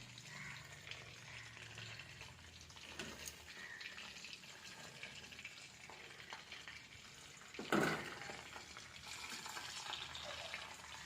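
Snakehead fish frying in hot oil, a soft continuous sizzle with a sharper clatter and burst of crackling midway, faint and steady throughout.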